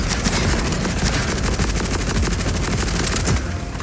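Rapid, loud automatic gunfire from the video game Borderlands 4 rattles in dense, sustained bursts of rounds, then cuts off abruptly near the end, leaving a brief fading tail.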